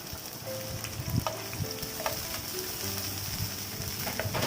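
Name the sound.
onions frying in oil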